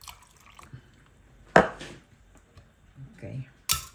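Water pours into a soy sauce and sugar marinade for crispy pata, a sharp splash followed by a second splash, with quiet kitchen sounds between.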